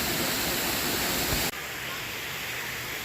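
Multnomah Falls waterfall roaring in a steady, dense wash of falling water, loud and close, then dropping abruptly to a quieter, more distant rush partway through.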